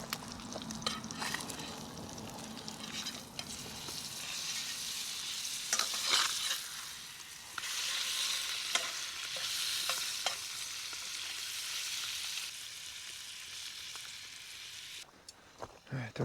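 Trout fries in a pan with a steady, fairly close sizzle and crackle, broken by occasional scrapes and clinks of a utensil, while a person talks over parts of it.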